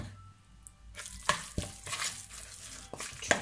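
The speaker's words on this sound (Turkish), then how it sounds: "Şunları bir karıştırayım." A spoon works through a gluten-free, bulgur-free lentil kofte mixture in a bowl, giving faint, irregular wet scrapes and soft knocks in a quiet kitchen.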